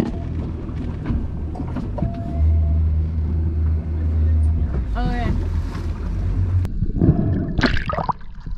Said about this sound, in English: Oh, there's this boat coming this way.